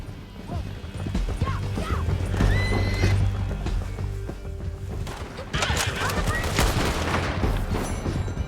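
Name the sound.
horses galloping and neighing in Red Dead Redemption 2 video game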